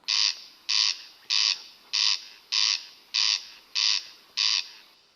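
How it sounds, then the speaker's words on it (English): A corncrake calls in a loud rasping rhythm, eight evenly spaced harsh two-part crakes repeating close by with no other sound. "Do you know what kind of bird that is? Yes, I do know because you told me at rehearsal. It's a corncrake."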